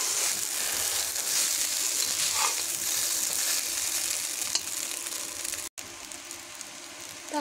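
Ginger-cumin paste being stirred into a sizzling chira (flattened rice) biryani mixture, a dense close frying hiss with soft scraping strokes and a brief dropout near the end, no talking.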